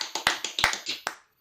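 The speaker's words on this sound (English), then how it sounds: "Give him a clap, like honestly." A handful of sharp, close claps ring out in an uneven rhythm, about eight strikes over a second before stopping into silence.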